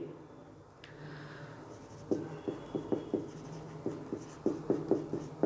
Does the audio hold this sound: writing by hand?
yes